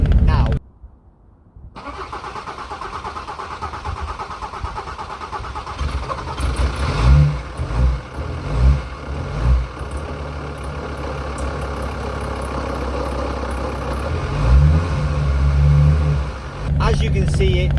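A car engine in cold weather turns over slowly with a labored, repeated cranking rhythm before catching and settling into a running idle, close and loud, with a few revving swells and a voice talking over it.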